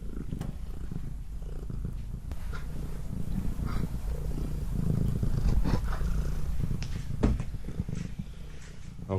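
A steady, low, rumbling purr from a cat, continuous and close, with a few faint clicks and rustles over it.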